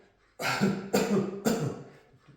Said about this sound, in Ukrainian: Придавлюєте, робите кашльовий рух.